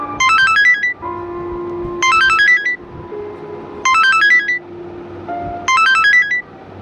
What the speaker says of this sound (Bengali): খানিক বাদেই মোবাইলটা বেজে উঠল